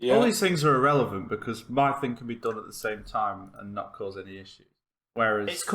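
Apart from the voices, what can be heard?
No everyday noise stands out behind the speech.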